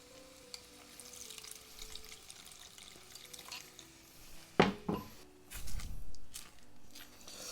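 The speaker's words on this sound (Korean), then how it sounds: "이러면 2차로 육수를 넣어줍니다" Second batch of broth poured into a pot of oatmeal mushroom porridge stuck at the bottom: a sharp clatter followed by a soft, rushing pour and brief sizzle, close up, over quiet kitchen background.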